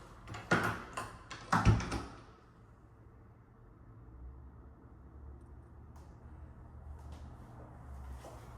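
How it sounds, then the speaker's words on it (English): The front door of a townhome swings shut with a few close, sharp knocks and a heavier thud and latch, followed by quiet indoor room tone and a faint low rumble. "Door is now closed."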